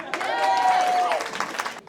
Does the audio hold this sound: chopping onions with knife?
no